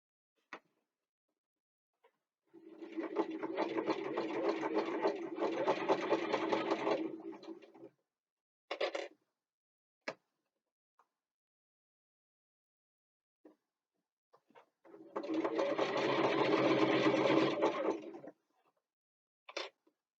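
A sewing machine stitching fabric for a bookbag runs in two close, steady bursts of rapid mechanical whirring, each a few seconds long, separated by quiet with short clicks and clunks as the cloth is adjusted.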